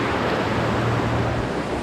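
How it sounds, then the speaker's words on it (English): Heavy rain pours steadily at Johnston Canyon, a dense, loud, unbroken hiss of water with a low rumble beneath it and no talking. "it's actually currently like pouring right now."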